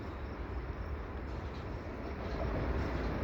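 A CPKC eastbound intermodal freight train creeping slowly at the Dorval ramps in the evening, a steady low rumble of rolling cars that swells slightly toward the end, with no voices.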